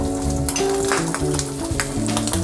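Traditional jarred tomato sauce hits drained, hot cooked ground meat in a pan for a baked spaghetti casserole, giving a loud, close, continuous sizzle with crackling pops and stirring.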